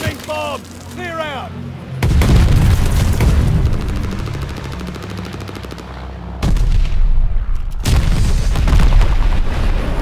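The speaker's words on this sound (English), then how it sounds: "Enemy glide bomb coming in hot." An enemy glide bomb strikes during a Call of Duty: Vanguard match, heard as loud, sustained booming detonations and rumbling blasts mixed with gunfire, with a brief voice at the start.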